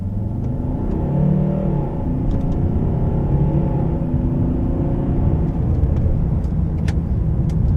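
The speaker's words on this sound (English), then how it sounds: "Let's do some accelerations. I'll put the gearbox in Sport mode." A 2010 Volvo S60 D5 diesel accelerating hard in Sport mode, a loud, steady engine rumble and drone heard from inside the cabin, building with gear changes.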